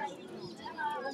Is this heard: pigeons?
yes